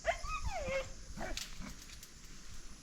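Dog yelping and whimpering during a wild pig hunt in a Fijian village, several short high cries and yips early on that fade into a thinner run of yelps over outdoor background noise.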